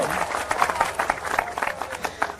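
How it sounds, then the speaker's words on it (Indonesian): An audience clapping at a religious talk, a dense, steady patter of many hands heard from a short distance, filling the whole brief stretch without pause. "Tepuk tangannya mana dong?"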